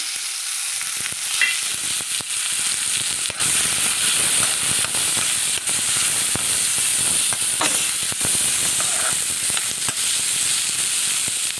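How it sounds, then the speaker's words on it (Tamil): Onions frying in a pan make a loud, continuous hissing sizzle, with scattered crackles and stirring scrapes throughout. "வெங்காயத்தை நல்லா புரட்டி வ வறுத்தெடுப்போம்"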